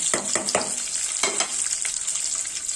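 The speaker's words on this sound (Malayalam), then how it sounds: "ഇതെല്ലാം നമുക്ക് കടു പൊട്ടിക്കാം" Mustard seeds splutter in hot coconut oil with small onions and curry leaves, giving sharp crackling pops in quick bursts over a steady sizzle, close and fairly loud.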